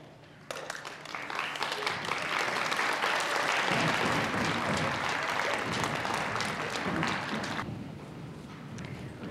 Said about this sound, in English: Let's give our fifth grade students another round of applause, please.